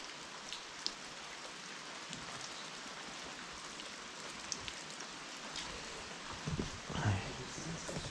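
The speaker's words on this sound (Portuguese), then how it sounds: "Tá chovendo ali, pessoal." Steady rain falls late at night outside a large old house, a continuous even hiss with a few louder drops and a brief bump of activity near the end.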